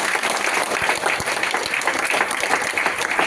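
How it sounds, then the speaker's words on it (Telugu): An audience at a business seminar claps loudly, a dense, sustained roar of many hands with a few sharper individual claps standing out, continuous to the end without speech. "చేయొచ్చు అంటే ఒకసారి గట్టి క్లాప్స్ కొట్టండి సార్."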